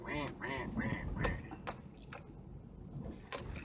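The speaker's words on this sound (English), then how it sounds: "Look, there's little duckies." Small ducks quack in a few soft, nasal calls near the start, faint and close, mixed with wet squishy and splashing noises.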